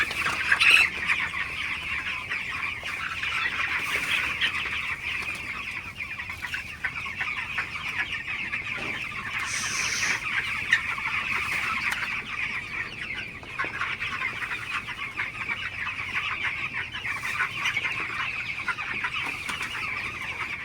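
Broiler chickens, sixteen days old, on a farm: a dense, continuous chorus of clucking and cheeping from many birds, steady and close throughout, with no talking.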